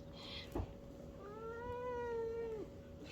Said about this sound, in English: Got a whiny cat right now.